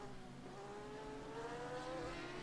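Porsche GT race car engine in the rFactor 2 sim at Sepang, heard faintly as a steady, rising rev with a tonal whine as the throttle is reapplied, alone without talk.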